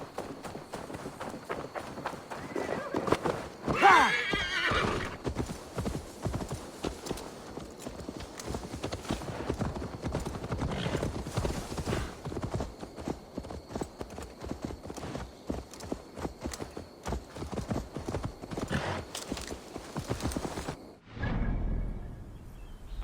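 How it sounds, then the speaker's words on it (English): Rapid, continuous clip-clop of a horse's hooves galloping in Assassin's Creed Valhalla, close and steady for over twenty seconds with whooshing movement, before cutting off near the end; no clear neigh stands out. "Let me get my horse, Randvi."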